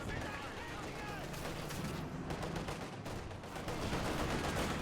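Mortar and rifle fire in a real-time strategy battle as a mortar hits a rifle squad, with dense crackling gunfire and explosions rumbling steadily throughout under a continuous wash of battle noise.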